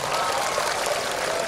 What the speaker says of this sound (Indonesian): Nah, tepuk tangan untuk mahasiswi.